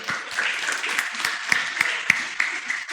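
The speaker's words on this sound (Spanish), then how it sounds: "aplaudan." Applause from a church congregation at a Sunday service, a steady patter of clapping with sharper individual claps standing out, heard fairly close for a few seconds.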